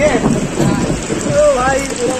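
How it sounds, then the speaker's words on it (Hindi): Heavy rain pours steadily with a dense, loud hiss outdoors, with a voice calling faintly beneath it. "बहुत जोरों का और बारिश स्टार्ट हो गया भाई, और जोर हो गया बारिश।"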